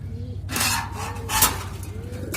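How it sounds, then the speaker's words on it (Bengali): A pair of pigeons, male and female, coo in soft, low repeated calls over a faint steady hum, close by. "এটা হলো মাদি কবুতর আর এটা নর কবুতর"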